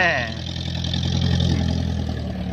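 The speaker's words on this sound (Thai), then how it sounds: "เสียงรถไถรบกวนเนี่ยนะครับ" A tractor engine runs nearby in a cassava field, a loud, steady mid-pitched rumble that holds throughout while people talk over it.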